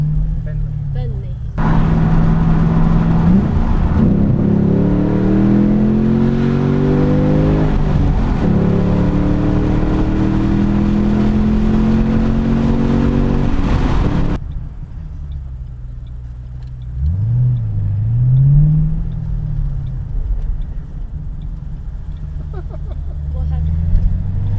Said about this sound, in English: he heard the car, so he thought, I'll shoot off up the road